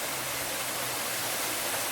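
Man-made waterfall at a cave temple, a steady dense rush of falling water that holds at one level without break, close and full.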